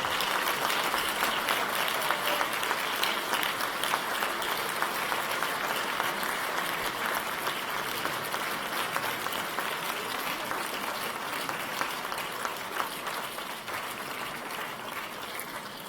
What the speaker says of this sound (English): Please give them a round of applause for the support and all the energy that they no doubt devoted to your